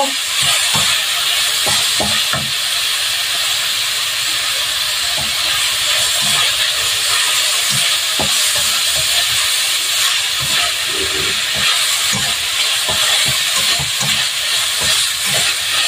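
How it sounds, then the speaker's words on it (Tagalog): Pork and eggplant sautéing in a pan, a steady loud sizzle and hiss with scattered pops and clicks of stirring throughout, no voices. "Gisa-gisa lang natin"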